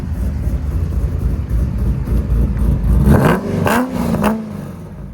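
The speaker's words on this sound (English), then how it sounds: "It's got a pretty nice sounding cammed exhaust on here." A Corvette with a cammed engine revs hard with a deep, throaty exhaust, rising and falling in pitch through several loud, nearby pulls.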